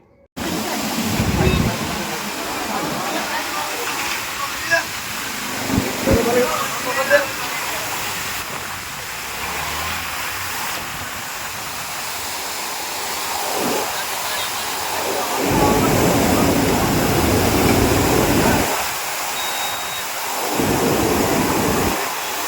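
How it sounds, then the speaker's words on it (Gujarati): Water gushing from a burst municipal water pipeline onto a road near a fire station in Junagadh, a continuous loud roaring rush with steady broadband noise and brief lulls throughout. "જૂનાગઢ ફાયર સ્ટેશન પાસે નગરપાલિકાની લાઈન પાણીની તૂટી"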